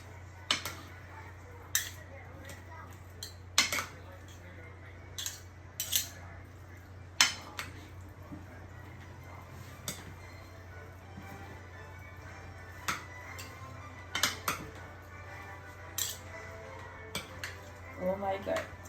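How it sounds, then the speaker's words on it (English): Avocado salad ingredients tossed together in a bowl, dressed with about five tablespoons of oil, giving scattered utensil clinks and scrapes at an irregular pace over a steady low hum, close and fairly quiet. "And then I come back and mix them together nicely"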